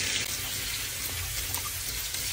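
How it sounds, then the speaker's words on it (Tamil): Water being poured into a pot of rice for coconut rice, a steady rushing splash that runs throughout, close and fairly loud, with no talking. "ஸோ நான் வந்து 3 கப்பு அரிசிக்கு 6 கப்பு தண்ணி ஊற்றிருக்கேன், அரிசியும் போட்டுட்டேன்."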